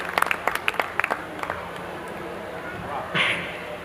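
Sparse, scattered hand claps from a small audience at an all-India Hindi kavi sammelan poetry recital, a few sharp claps in the first seconds that quickly thin out into quiet room murmur.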